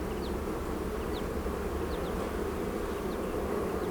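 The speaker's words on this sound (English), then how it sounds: "I'll shake these bees off." Honeybees buzzing steadily and fairly close while a frame is lifted from a double brood chamber hive during a colony split, a continuous dense hum with no talk.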